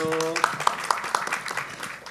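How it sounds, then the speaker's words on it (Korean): Audience at a Busan maritime and transport policy seminar panel session applauds as a panelist is introduced, a short burst of clapping in a hall, moderately loud, following an announcer's voice. "뜨거운 박수 부탁드립니다"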